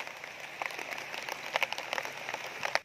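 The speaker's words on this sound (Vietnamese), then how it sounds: "Quá mưa lớn quá chừng luôn rồi làm sao." Heavy rain falls steadily in a rural Long An setting where snake traps are being checked, a dense even hiss with scattered sharper drop impacts, close and fairly loud, with no talking.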